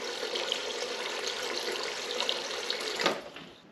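Water runs steadily from an LG refrigerator dispenser while a new water filter is flushed, a continuous splashing stream into a container with no voices, rising to a brief louder gush near the end.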